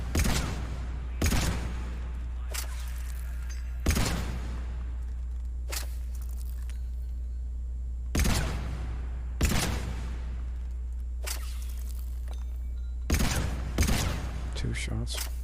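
Gunshots in Mass Effect 3 on Insanity difficulty from a Carnifex-style heavy pistol, spaced single and paired sharp cracks with short echoing tails over a steady low hum, with a player talking between shots.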